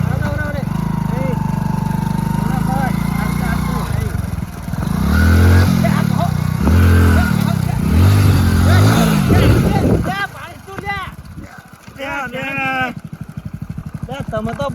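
A learner rides a motorcycle, the engine droning steadily then revving in several uneven surges, loud and close, with excited voices shouting over it and then talking as the engine fades.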